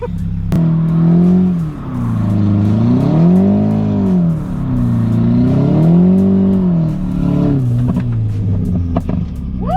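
An Audi A4 drift car with a manual gearbox revs hard in repeated rising and falling swells, loud and close, the engine droning steadily between pulls.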